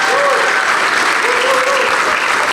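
A conference audience applauds a speaker on sales and marketing with loud, steady clapping filling the whole stretch, while a voice calls out over it.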